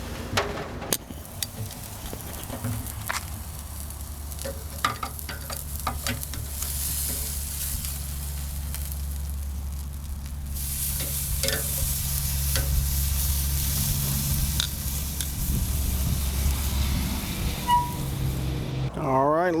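Tri-tip steak searing on an Oklahoma Joe's Bronco grill, giving a steady, crackling sizzle throughout with occasional clicks and scrapes, heard close up.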